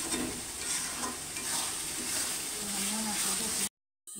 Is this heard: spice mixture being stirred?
yes